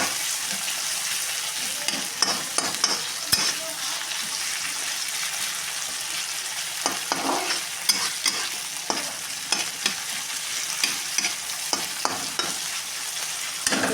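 A potato and cauliflower curry fries in oil, a steady bright sizzle punctuated all the way through by frequent clacking, scraping stirs of a spoon against the pan, close up with no talking.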